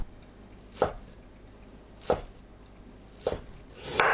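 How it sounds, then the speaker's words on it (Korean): A carrot being julienned with a knife on a board, three or four crisp, separate chopping knocks spaced about a second apart, close and quiet, with no voices. "당근을 채 썰어주세요."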